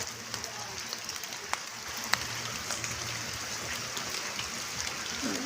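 Steady rain falls around a building under construction, a soft continuous patter with faint scattered drops, while someone's voice is faintly audible in the background.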